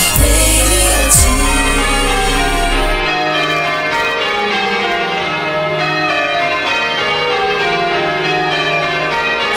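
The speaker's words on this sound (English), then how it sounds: "Sunday morning, the bells ring out." Church bells peal on a Sunday morning, a loud, continuous ringing of overlapping tones that fills the whole stretch without pause.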